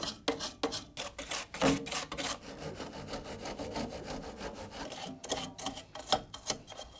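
A paintbrush sweeps dust off the fan blades, motor and condenser of a fridge in a run of close, dry scratchy strokes that speed up and slow down, with no talking.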